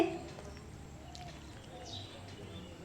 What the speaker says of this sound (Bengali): মাঝে মধ্যেই কোকিলের ডাক শোনা যাচ্ছে